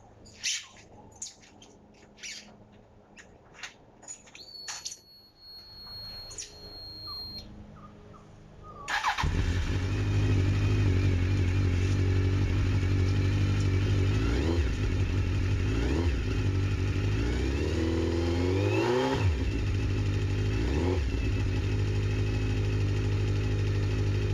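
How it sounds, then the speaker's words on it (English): A motorcycle is started after some faint clicks, light taps and birdsong, then settles into a loud, steady idle with several brief throttle blips. "I'll turn the bike on, make sure it's still running correctly, leave it on for a minute or so"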